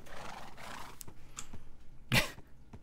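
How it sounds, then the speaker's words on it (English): Horse in Minecraft gives a short, sharp whinny, a quiet, brief neigh that stands out near the end amid soft background game sounds. "let's get these two horses"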